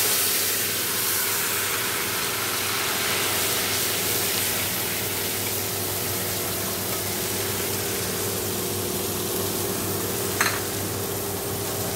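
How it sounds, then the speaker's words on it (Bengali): Black cumin, cumin and dried chillies sizzle in hot oil as a tempering for a Bengali home-cooked dish, giving a steady, fairly soft hiss with no talking. "দেখো কালো জিরে সাদা জিরে শুকনো লঙ্কা ফোড়ন দিয়েছি।"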